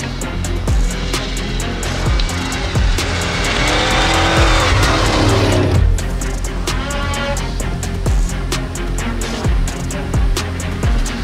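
A Can-Am Maverick R UTV roars through deep snow, engine revving hard and loud up close with rising and falling surges, rapid crackling bursts and spinning churn throughout.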